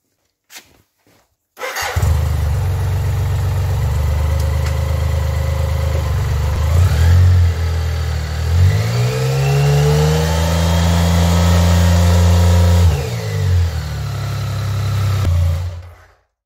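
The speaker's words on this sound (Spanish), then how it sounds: "he metido primera, he acelerado bastante, he, cogido el embrague y automáticamente se ha frenado" A BMW K75 motorcycle engine starts after a few clicks, idles, then is revved hard in first gear, rising and falling in pitch before settling back; loud and close with no talk.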